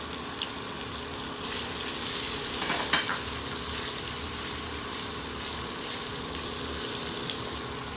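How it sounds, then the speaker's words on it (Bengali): Continuous sizzle of ginger paste frying in oil, with a brief louder burst of spattering near the middle; no talking. "একটু ভাজা ভাজা হোক"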